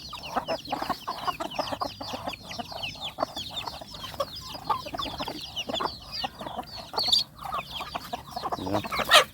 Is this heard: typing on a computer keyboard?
no